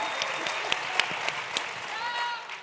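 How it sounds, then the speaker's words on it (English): An audience at a political conference panel gives a round of applause as a panelist comes on, a brief dense clatter of clapping with a few sharp claps, mixed with voices. "Give her a round of applause."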